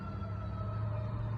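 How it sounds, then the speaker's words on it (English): A fire truck siren in the town of Orting, Washington, heard faint and steady, a held wailing tone over low traffic rumble. "there goes the fire truck going in a different direction"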